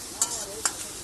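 Eggplant and eggs fry in a pan, a steady soft sizzle with two sharp scraping stirs of the spatula, close and moderately loud, no voices.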